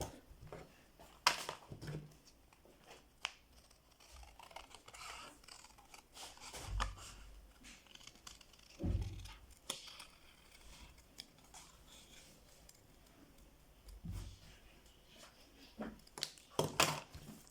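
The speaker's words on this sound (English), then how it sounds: "Then I'm going to go ahead and trim it out." Scissors trimming cut-out sandal material for a handmade boys' summer sandal, giving scattered, irregular snips and rustles at close range over a quiet background.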